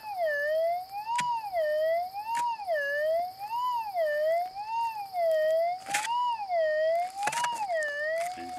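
Minelab GPX 5000 or GPZ 7000 metal detector over noisy ground, giving a loud, steady warbling tone that rises and falls rhythmically, with sharp clicks and bursts cutting through several times.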